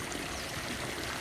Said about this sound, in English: I'm adding water right now